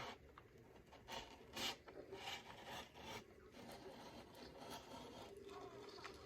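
A knife slits along the plastic seam of a vintage Spider-Man action figure package, making a faint, continuous scratchy rasp with a few louder scraping bursts early on.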